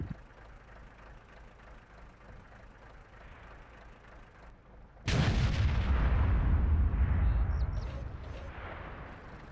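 A single heavy artillery blast in the World of Tanks game erupts midway, loud and close, over a steady low engine rumble, then slowly fades.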